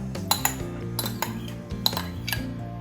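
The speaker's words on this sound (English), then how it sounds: "I will add the remaining fusilli pasta here" Fusilli pasta is added to a pan of tomato gravy while cooking. A spoon clinks and scrapes against the pan in a series of close, bright knocks over a low steady hum.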